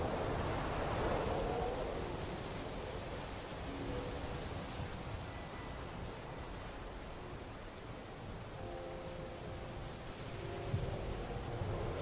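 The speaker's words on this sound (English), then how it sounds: "The storm drowns out a lot of noise." Steady rain and rumbling storm noise from a thunderstorm in the medieval video game Kingdom Come: Deliverance 2, a continuous wash of rainfall with a louder swell near the start and no talking over it.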